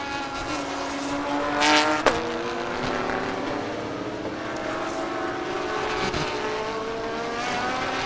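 Race cars in a Thailand Super Series race roar past continuously, engine pitch rising and falling as they come through a bend, loud and sustained with no voices over it.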